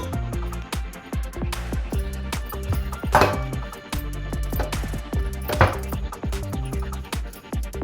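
Repeated heavy thuds of a pestle pounding in a metal pressure cooker, uneven in rhythm, with a few louder ringing strikes, close by.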